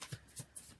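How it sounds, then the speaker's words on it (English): Tarot cards riffled and shuffled by hand in short, soft bursts of papery flutter, close and quiet with no talking. "I'm shuffling the cards"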